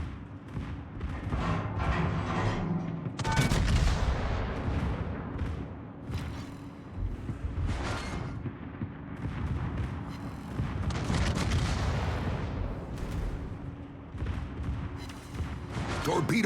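Warship guns in a naval combat game, with repeated deep booming salvos and rumbling impacts spread across the stretch, fairly loud, and a voice talking over the firing.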